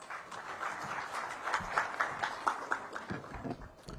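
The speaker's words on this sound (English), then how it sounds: "Please welcome with a round of applause." A crowd clapping steadily at the Bharat NCAP launch event, a dense patter of many hands that swells and fades slightly, heard from some distance without speech.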